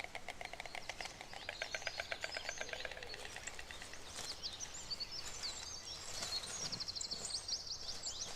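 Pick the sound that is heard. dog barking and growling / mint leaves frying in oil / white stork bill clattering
white stork bill clattering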